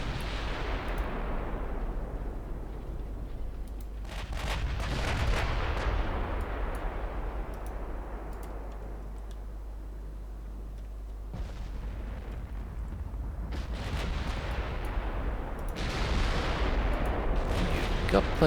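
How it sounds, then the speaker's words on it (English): Warship guns boom in naval combat in Ultimate Admiral Dreadnoughts, heavy artillery blasts rolling out in waves with long rumbling decays, loud and layered, with a voice talking underneath. "Because there are quite a few ships firing."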